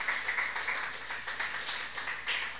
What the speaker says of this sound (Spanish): Puede sentarse, hermano, con un aplauso al Señor Jesucristo.